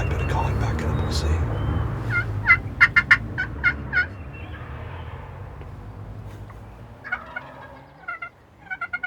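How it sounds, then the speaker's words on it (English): A wild turkey gobbles in spring woods, a few rapid rattling gobbles rising loud over faint background noise, followed by softer calls near the end. "He's still down there gobbling"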